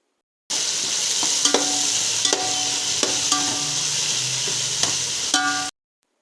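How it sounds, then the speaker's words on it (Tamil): Fresh mint and coriander leaves sautéing in a hot pan with garlic paste for a Kongu-style white mutton biryani, a steady close sizzle broken by several sharp scrapes and clanks of a spoon stirring. "நல்லா வாஷ் பண்ண கொஞ்சம் புதினா, கொஞ்சம் கொத்தமல்லி ஆட் பண்ணி நல்லா வதக்கிக்கோங்க"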